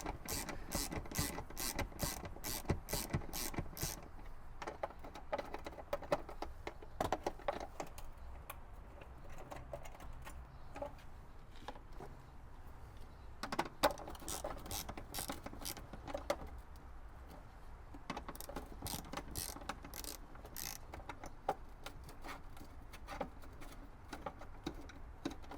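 A hand ratchet with a T40 bit turns a door stabilizer bolt on a Toyota Tacoma TRD Pro, its pawl clicking in quick, steady bursts separated by pauses, close and fairly quiet, with no talking.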